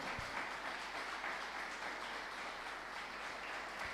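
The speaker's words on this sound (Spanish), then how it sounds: "Denle un fuerte aplauso a nuestro Señor." A church congregation applauding during a Spanish-language sermon, dense continuous clapping that holds at a steady level from start to finish.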